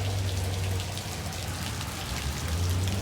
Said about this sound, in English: as much rain as this is